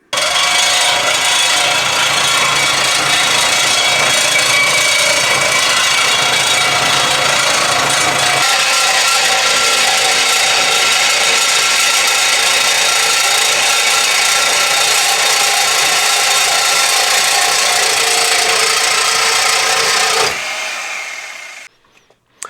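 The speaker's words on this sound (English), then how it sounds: "we're going to take our reciprocating saw and we're going to cut two pieces each at 21 inches" A reciprocating saw cuts through angle iron, a loud, continuous buzzing rasp that runs close and unbroken for about twenty seconds, shifts tone partway through, then cuts off abruptly into near silence.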